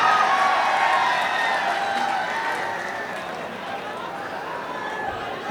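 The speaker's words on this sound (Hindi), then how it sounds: "एक बात जोरदार तालियां आरिफ शेखी साहब के लिए।" A live audience at a political gathering in Aurangabad, Maharashtra, claps and cheers in a steady, dense wash of crowd noise, loud at first and easing slightly over the few seconds, with no clear voice above it.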